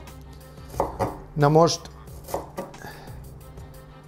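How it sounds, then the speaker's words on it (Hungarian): Ginger is chopped with a knife on a cutting board while a Szechuan glazed tofu udon dish is prepared; a few sharp knife taps land close by amid kitchen clatter, and someone talks briefly. "Most akkor aprítunk gyömbért, reméljük az ujja megmarad."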